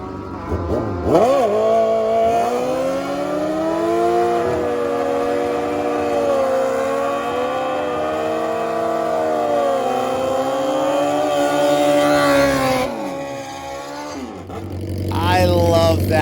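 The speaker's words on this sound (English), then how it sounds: "Let's see some burnouts." Drag racing motorcycles doing burnouts in the burnout box at a motorcycle drag strip, a loud sustained engine roar with shifting harmonic tones for about twelve seconds, dropping briefly before rising again, with crowd or announcer noise underneath.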